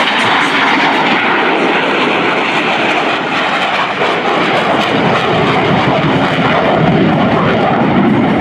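US Navy Blue Angels jets crossing over show center at the NAS Oceana air show roar loudly and continuously, a dense, powerful jet blast that swells and holds without a break.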